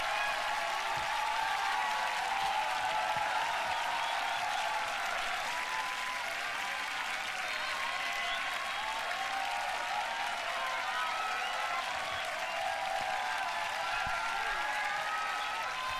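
Sustained crowd applause after a beatbox tag team battle at a large event, dense and even clapping with cheering that carries on throughout, a voice faintly audible beneath.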